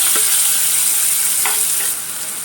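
Cumin, garlic, tomato and green chilli sauté in hot oil in a pan, a bright continuous sizzle with a couple of soft stirring scrapes, easing slightly toward the end.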